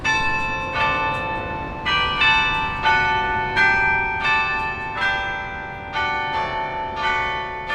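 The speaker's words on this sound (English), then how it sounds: "the bells played 15 minutes of hymns" Church tower bells ring out slow hymns, each struck note ringing on and overlapping the next, steady and fairly loud with no voices.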